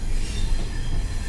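A passenger train running through mountains keeps up a loud, continuous rumble of rolling wheels with high squealing from the rails, heard from inside the carriage with no voices.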